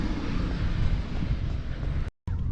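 Strong wind buffets the microphone during a road marathon on asphalt in Turkestan, a loud, steady low roar throughout that cuts out abruptly for a moment near the end.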